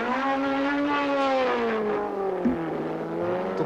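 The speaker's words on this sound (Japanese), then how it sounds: "ミッションがね今ね具合悪いんで音が出てる" An R32 Skyline GT-R with a faulty transmission races at speed, its engine droning loud and steady with a strong whining harmonic tone that dips slightly near the end, alone without talk.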